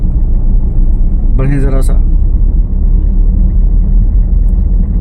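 A learner's car engine sits near the clutch biting point, giving a steady, loud low rumble throughout, with a short spoken phrase partway through.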